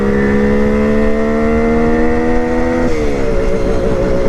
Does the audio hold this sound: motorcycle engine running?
yes